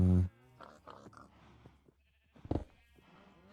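A Minecraft cow gives a short, loud low moo right at the start, followed by quieter game noises, a faint voice, and another brief call later on.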